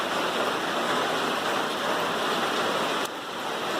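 Heavy rain pouring down on the Appalachian Trail in Vermont, a dense, steady, loud hiss of drops hitting surfaces all around, continuous with no voices.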